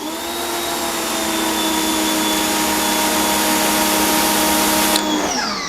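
A Chemical Guys Pro Flow PM2000 electric pressure washer runs with its 0 degree nozzle, a loud close steady whine and rushing spray that cuts off abruptly near the end.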